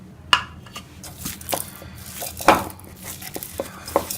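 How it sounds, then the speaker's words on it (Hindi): Spices and garlic-ginger paste are worked into minced beef for kofta in a bowl, with soft squishing and scattered sharp clinks of utensil against the dish, close and moderately loud. "ये सारे मसाले डाल के मैं मिक्स कर लूंगी और हम कोफ्ते बनाएंगे"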